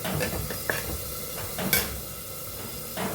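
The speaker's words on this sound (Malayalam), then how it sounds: "എൻ്റെ ചിക്കൻ കറി ഇവിടെ സൂപ്പറായിട്ട് ഇതേ തിളച്ച് വന്നിട്ട് കേട്ടോ" Chicken curry simmering at a steady boil in a pot over lowered heat, a continuous bubbling hiss with occasional soft pops and a brief utensil clink, close and moderately loud.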